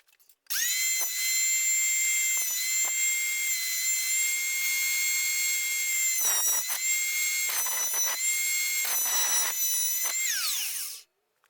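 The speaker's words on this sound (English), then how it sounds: "So I'll just rip it through my table saw and see what we end up with." A table saw rips a scrap of maple lengthwise, the blade whining at a steady high pitch for about ten seconds, with brief dips as the cut loads the motor, before spinning down and stopping.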